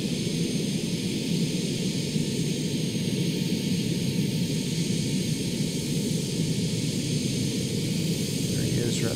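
A plane in flight near the USS Nimitz aircraft carrier gives a constant, broad roaring drone with airy rush, heard steadily from onboard with no voices.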